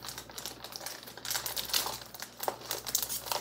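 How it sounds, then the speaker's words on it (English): Quiet crinkling and rustling of plastic packaging as an Amazon shipping package is opened by hand, in irregular, soft bursts close by. "Let's open up this package,"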